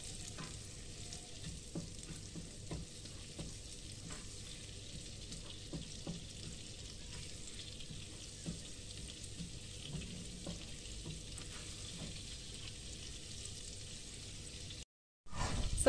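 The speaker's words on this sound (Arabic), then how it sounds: "نشحروها غير شويه في ديك الزبده، ما تحرقش لينا" Garlic sizzles in melted butter in a pot, a soft, steady crackle of frying with occasional stirring clicks, quiet and close with no talk.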